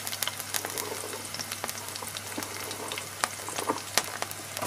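Ginger pieces and green chillies sizzle in a pan with hot oil in a steady, crackling hiss, close and even throughout, with small sharp pops scattered over it and no voices.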